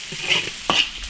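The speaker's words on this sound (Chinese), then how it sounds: "生姜、花椒、干辣椒炒香" Ginger, Sichuan pepper and dried chilies are stir-fried in an iron wok, giving a short close burst of sizzling with quick scraping stirs.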